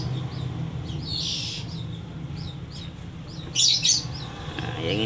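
Oriental magpie-robin chicks chirp in short, high, repeated bursts close by, over a low background hum, with a louder cluster of calls near the end.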